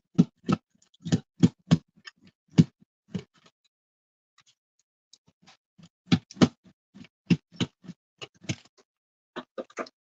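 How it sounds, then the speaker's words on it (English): A block of cheese being grated by hand in a home kitchen, heard as quick, rhythmic scraping strokes in short runs that pause midway and then resume, fairly close and moderately quiet. "the sound you hear in the background is me quickly grating the cheese that I need"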